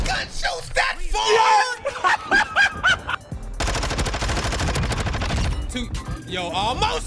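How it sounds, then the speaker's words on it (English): Shotgun fire in the Call of Duty Modern Warfare 2 video game: loud, dense bursts of gunfire in the middle of the clip, with shouting and excited voices around them. "That shotgun shoots that far!"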